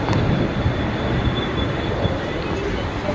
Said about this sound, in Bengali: ট্রেন ছাড়া হয়ে গেছে